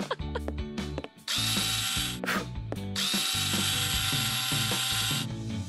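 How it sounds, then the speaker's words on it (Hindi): A power drill tightens screws on a small toy doll house. Quick ratcheting clicks lead into two long, loud whirring runs, up close with no voices. "लगभग हो गया, मुझे बस अब स्क्रूज को टाइट करना है।"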